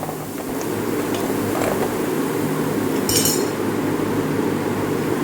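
Beef curry being stirred in a pot for a Kerala-style recipe, a steady bubbling and scraping bed with a few metallic spoon clinks against the pot, close and continuous throughout.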